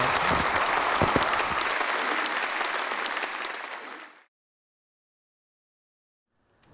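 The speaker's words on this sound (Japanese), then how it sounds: "拍手をどうもありがとうございました" Audience applause fills the room at a university public lecture, a dense steady clatter of many hands for about four seconds, then stops abruptly into silence.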